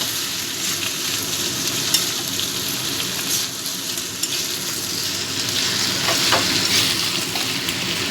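Ginger and cumin paste being stirred and fried in a pan for a fish curry, a constant close sizzle with scraping spatula strokes and faint crackles throughout.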